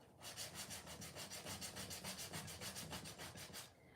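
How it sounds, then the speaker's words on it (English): Sandpaper rubs over raised, dried paste to smooth it, making a steady, rhythmic scratchy rasp of quick back-and-forth strokes, close and fairly quiet, continuing for several seconds without talk. "I'm going to sand them"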